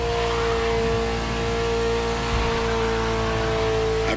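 A Ferrari sports car engine drones in The Crew Motorfest video game, a steady, sustained mid-pitched hum close by, with no clear rise in revs.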